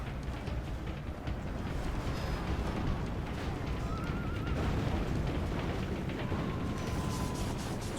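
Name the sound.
siege weapons firing on city wall, Medieval 2 Total War video game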